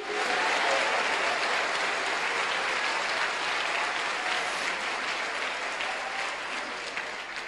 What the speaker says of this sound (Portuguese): Quem crê, aplauda o nome dele